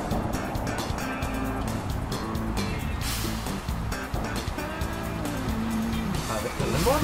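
A huge truck driving through busy London streets in Euro Truck Simulator 2, a steady engine drone with rumbling traffic noise throughout and a swelling roar at the end.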